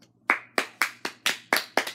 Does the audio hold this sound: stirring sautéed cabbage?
no